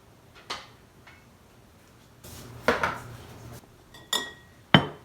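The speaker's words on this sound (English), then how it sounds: "Now I'm going to put this into the warming canner." A glass canning jar goes into a warming canner, giving a few sharp separate clinks and knocks of glass against metal, with quiet gaps between them.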